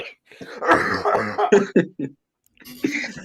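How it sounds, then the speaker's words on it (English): A few harsh coughs and throat-clearing bursts, close and fairly loud, broken by a short pause before one more cough. "You're so excited you're coughing, bro."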